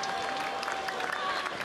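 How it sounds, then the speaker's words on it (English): Warm applause from the crowd at an India versus Pakistan field hockey match in 2003, a steady broadband wash of clapping heard from a distance under a faint voice, continuing without pause. "He's getting warm applause from the crowd."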